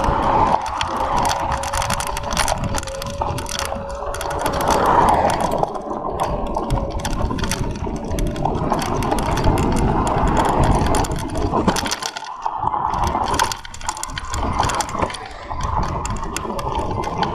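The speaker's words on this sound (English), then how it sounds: "Little bit noise on the back from the chain, but it's okay." Faint rattling and whirring of the chain at the rear of an ANIIOKI A8 60v electric bike while riding, a continuous mechanical clatter with a thin motor whine running through it and no voices.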